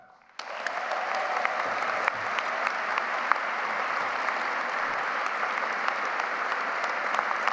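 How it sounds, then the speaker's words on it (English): A ceremony crowd bursts into applause for a newly invested college president, the clapping starting abruptly after a brief quiet moment and continuing as a dense, steady, sustained wash with occasional sharper claps. "You're getting a big applause"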